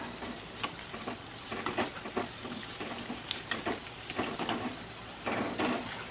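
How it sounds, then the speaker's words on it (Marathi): Frying food sizzles steadily in a pan while a spatula stirs it with repeated scraping strokes, close and moderately quiet, with no talking. "आता ह्याला आपण हलवून घेऊया एकदा"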